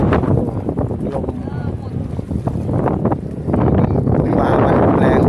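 Strong wind buffets the microphone on a fishing trip out on the water, a continuous rough rumbling roar that swells and surges, growing louder toward the end.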